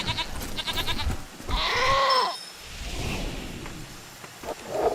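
A goat bleats in the video game Wasteland 3, one drawn-out wavering cry in the middle framed by whooshing game effects and clicks, loud and close with no speech.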